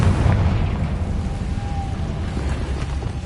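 Fiery spell blast of Confringo in the video game Hogwarts Legacy, a dense rumbling boom with crackling debris that starts loud and tails off into a sustained low roar over about three seconds.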